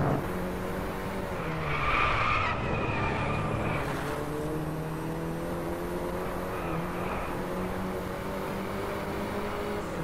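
A race car in the Driveclub racing game slides into a loud tire squeal and skid early on, with the engine droning steadily underneath as it keeps driving.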